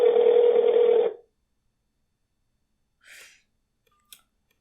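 A single loud electronic ring tone plays for about a second, followed by silence and a couple of faint clicks.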